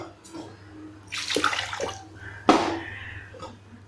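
Water splashes and pours in short bursts, a couple of gushes into a pressure cooker with a steady low hum underneath.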